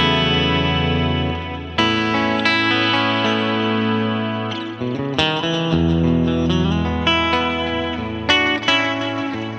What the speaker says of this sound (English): I'm just going to whack a bit of delay on and some compression